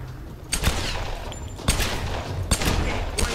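Sharp gunshots fired at enemies in the video game Tomb Raider, four loud evenly spaced cracks over a steady bed of game noise.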